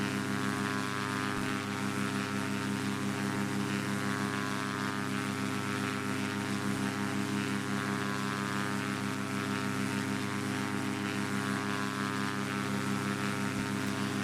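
A Cessna 185F amphibian's piston engine and propeller drone steadily through a climb in the FS9 flight simulator, a loud, even, unbroken hum with no voices.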